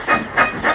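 A steam engine named Emily puffs out of a station in three even, rhythmic steam chuffs. The chuffs are loud and close, with no talking over them.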